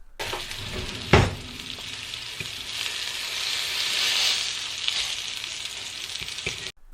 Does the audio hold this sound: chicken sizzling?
yes